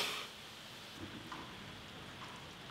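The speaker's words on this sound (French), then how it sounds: "Bon bah il pleut." Rain falls steadily outside a home kitchen as a soft, continuous hiss, faint and even, with a few slightly brighter spatters and no talking.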